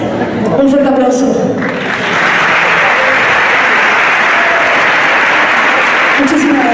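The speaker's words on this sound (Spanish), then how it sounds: "Un fuerte aplauso." A large crowd at a Spanish social club event bursts into loud, sustained applause after a short spoken line, with cheers rising above the clapping.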